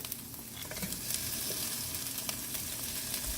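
Cashews and a little onion frying in a pan while browning for tomato idli korma, a steady close sizzle with faint crackle and no talk.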